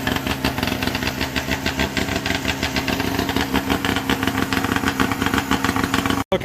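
A small two-stroke motorcycle engine idles steadily close by, its rapid even putter running continuously with no talk until a brief cut near the end.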